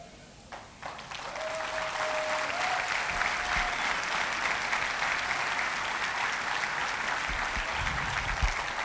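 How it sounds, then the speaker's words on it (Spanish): A church congregation breaks into sustained applause during a Spanish-language sermon, a broad, even roar of many clapping hands that swells quickly after a brief start and holds steady. "Apláudales a él, a quien aplaude,"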